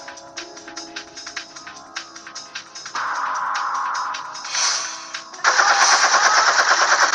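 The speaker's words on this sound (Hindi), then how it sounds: "कैसे दनादन बंदूक से गोलियों की बरसात हो रही है" Bursts of automatic gunfire crackle in rapid, repeated volleys from a war scene, first as spaced shots and then as dense, louder sustained rattles.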